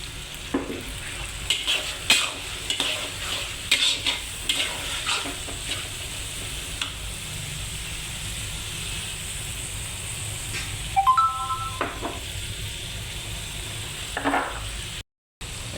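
Green chillies fry with prawns in a pan, a low steady sizzle under frequent clinks and scrapes of a stirring spoon, with a brief run of sharper metallic taps near the end.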